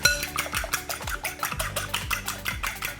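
A fork whisks eggs in a bowl for French toast, giving a steady, rapid run of light clinking taps against the sides, close and fairly loud, with no talking over it.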